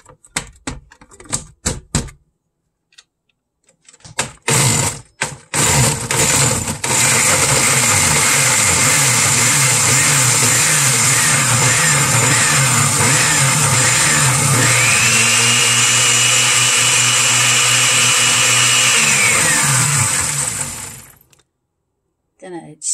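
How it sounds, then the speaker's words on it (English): A few clicks and short bursts, then a blender roars loudly for about fifteen seconds, blending celery with bottled water, its whir shifting in pitch midway before it cuts off. "put that in the blender"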